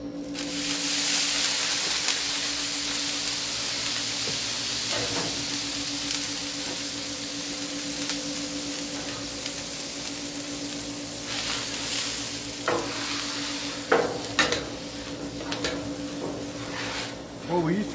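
Food sizzles and steams on a hot cooktop while breakfast is made outdoors, a continuous hiss with scattered clinks and scrapes of utensils, louder near the end.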